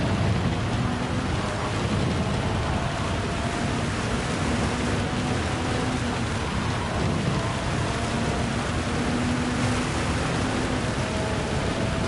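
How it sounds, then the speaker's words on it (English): Steady, dense rainfall in the racing video game Gran Turismo 7 at Le Mans hisses continuously with a low rumble underneath, holding an even level throughout with no voices. "that's when the rain is starting to get a little bit heavier"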